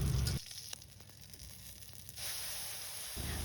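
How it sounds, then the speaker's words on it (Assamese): Nigella seeds, garlic and dried and fresh green chillies sizzle in mustard oil in a wok, a close hissing fry that dips quieter midway and then swells again. "এতিয়া কেৰাহীটোত অকণমান সৰিয়হৰ তেল দি লৈছোঁ আৰু ইয়াতে কালজিৰা, নহৰু, শুকান জলকীয়া আৰু কেঁচা জলকীয়া দি অকণমান ৰঙচুৱা হোৱালৈকে থৈ দিছোঁ।"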